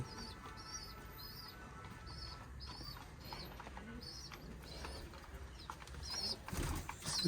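Pigeons coo softly in short repeated calls within a loft or rooftop pen while they feed on grain, set against a steady low background hum with faint rustling and a louder burst near the end.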